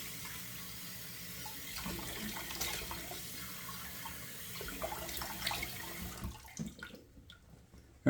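Tap water running into a bathroom sink and splashed onto the face before shaving, a soft steady trickle with splashy bursts that fades toward the end, heard alone.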